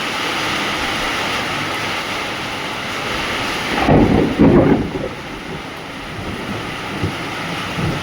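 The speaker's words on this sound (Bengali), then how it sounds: "প্রচন্ড বৃষ্টি এসছে।" Heavy rain from a thunderstorm hisses steadily and loudly, with a deep thunder rumble swelling near the middle before easing back into the constant downpour; no one speaks.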